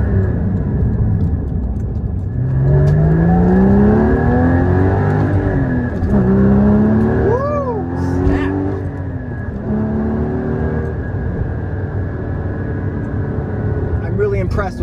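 A Porsche running a COBB Accessport tune revs hard through high RPM, its engine note climbing and sweeping up in loud repeated pulls, with someone talking over it.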